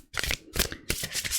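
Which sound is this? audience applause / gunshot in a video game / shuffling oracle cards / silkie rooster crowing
shuffling oracle cards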